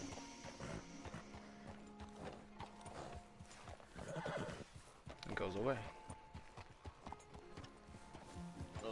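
A horse's hooves clip-clop in steady steps, with a loud whinny in the middle, in the Red Dead Redemption 2 video game, while someone talks over it.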